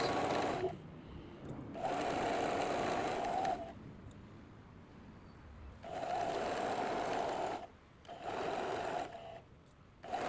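Sewing machine stitching a curved pocket seam in fabric, bursts of steady whirring motor with short pauses between runs, close and clear with no talking.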